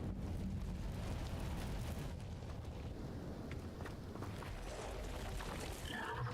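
An Incendio fire spell is cast in Hogwarts Legacy inside the Acromantula cave, giving a steady roaring, crackling rush of flame. It holds at an even level for several seconds with faint scattered crackles on top.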